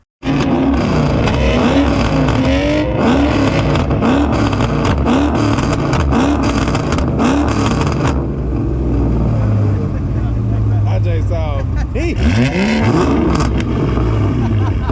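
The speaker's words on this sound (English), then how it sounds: "That AMG got the crackle pops with that shit," Loud Mercedes-AMG car engines revving hard with sharp exhaust crackles and pops, continuous throughout, with voices talking underneath.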